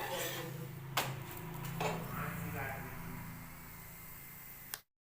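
Dishes, pots and cutlery being washed in a home kitchen late at night, with sharp metallic clinks near the start and middle over running water, ending in a final clank before abrupt silence.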